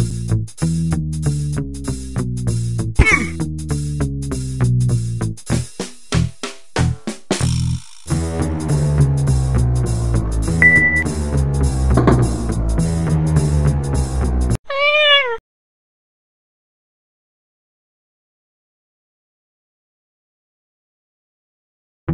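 Synthesized game music from the 1999 Macintosh game Cat Burglar with a cartoon cat meow near the end, a short rising-falling cry just before the music cuts to silence.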